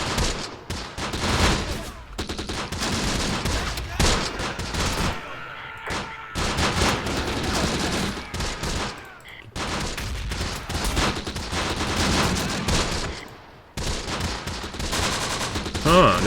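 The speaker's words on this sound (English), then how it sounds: "we are under heavy fire, so I'll allow the 30 cal to return fire right now" Heavy, continuous gunfire with bursts from a .30 cal machine gun in the Close Combat game's Sicily campaign, Operation Husky, rattling on loudly for the whole stretch with only brief pauses between volleys.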